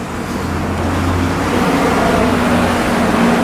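A car approaches from behind on a street in Japan, its steady engine and road noise rising gradually and staying loud and close throughout.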